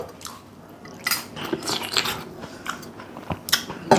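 Flattened rice chewed up close with a desi thali spread nearby: crunchy biting and mastication sounds in irregular bursts, fairly loud, with a few faint clinks of dishes and no talking.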